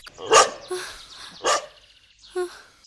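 A dog barks four times in short, separate, loud bursts close by, with brief pauses between each bark.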